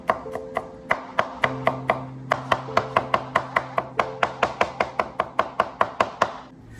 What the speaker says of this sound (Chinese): 大蒜拍碎之后再改刀切成蒜末